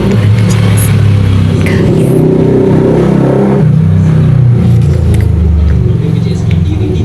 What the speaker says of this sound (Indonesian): Lu denger gak sih suara motor itu jelas?